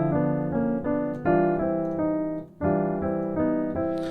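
Piano plays a short moving melody with the B harmonized by a D, several sustained two-note chords struck one after another at moderate volume, clear and close with no talking.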